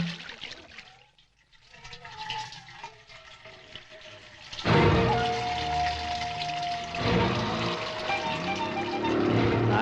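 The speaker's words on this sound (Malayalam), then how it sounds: "എടാ വെള്ളം ഒഴിക്കാൻ." Water pours loudly and continuously from a public corporation pipe in a crowded street setting, rushing steadily for several seconds, with softer trickling and scattered background noise beforehand.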